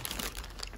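Crinkly, paper-like lint-free nail wipes are handled close up, giving a continuous soft rustling and crackling with no talk.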